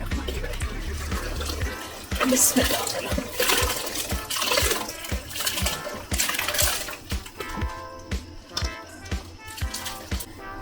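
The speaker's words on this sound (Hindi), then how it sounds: "अच्छी तरह से पानी बॉयल हो गया है और अब इस मौके पे जो है मैं इसके अंदर डालूंगी चावल" Rice being poured into a pot of boiling water for a large masala biryani, a close splashing, rattling pour followed by bubbling and dripping water, with no talk.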